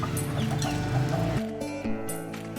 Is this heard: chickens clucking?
yes